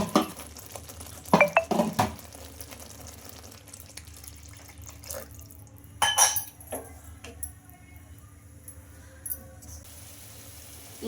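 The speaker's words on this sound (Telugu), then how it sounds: "మనం గ్రేవీకి సరిపడినంత వాటర్ అయితే వేసుకుందాం" Water splashes into gravy in a pan in a few short bursts, with light clinks of utensils and quiet pauses between pours.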